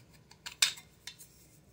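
Metal clinks of coffee going into a percolator, a few light close taps and one brighter clatter, with no talking.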